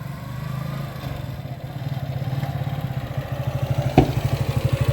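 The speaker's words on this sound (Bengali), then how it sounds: "স্টার্ট গাড়ির ইঞ্জিন সাউন্ড" A motorcycle engine idles just after being started, a steady close-up putter with even rapid pulses, one sharp clunk near the end as the beat grows slightly stronger.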